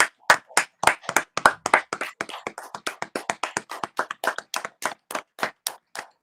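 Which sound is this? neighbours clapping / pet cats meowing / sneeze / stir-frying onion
neighbours clapping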